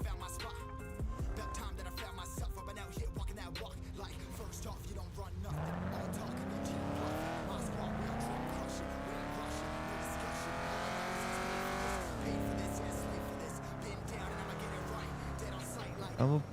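A car engine drones steadily in GTA V FiveM roleplay, rising in pitch with acceleration and dropping on gear changes, fairly quiet throughout, with a voice talking over the early part.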